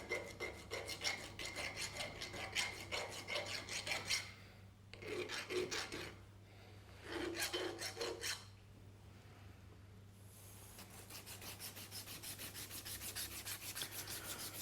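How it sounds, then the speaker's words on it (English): Cable insulation being sanded down by hand, rapid rhythmic rasping strokes in several bursts with brief pauses between, close and fairly quiet. "The cable is then sanded down to remove any impurities that may be left on the insulation on the cable."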